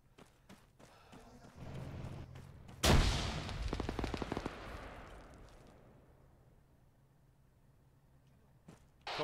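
A frag grenade goes off in Arma 3 with a loud, sudden blast whose rumbling tail slowly fades over several seconds, after softer shuffling and faint voices beforehand.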